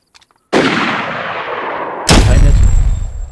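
Two very loud gunshots from DayZ ring out after a short quiet, the first with a long rolling echo and the second even heavier, booming and reverberating to the end.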